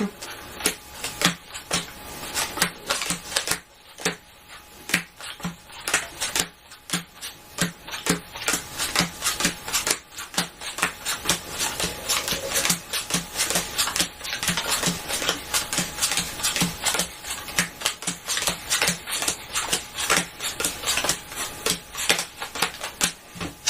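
A spectator deals playing cards into several piles on a table, giving a steady run of quick, close, light card snaps and taps that continue for the whole stretch, with occasional faint murmuring.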